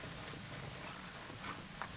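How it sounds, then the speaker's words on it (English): Horse hooves clip-clop faintly and steadily as a mare is ridden and turned, soft regular footfalls over a low background rumble. "I'm moving with this horse as I'm turning her"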